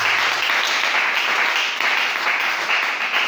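A church congregation applauding steadily, dense continuous clapping filling the room at a loud, even level without pauses.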